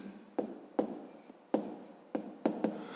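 Chalk tapping and scraping across a classroom board while a subtraction is written out, several sharp strokes and taps in an uneven rhythm, close and clear, with no talking.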